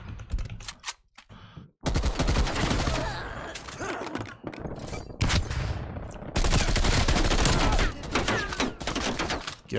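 Rapid automatic gunfire in the Call of Duty Cold War video game, with dense overlapping bursts and fusillades that are loud and close, broken by brief pauses and mixed with keyboard-like clicks.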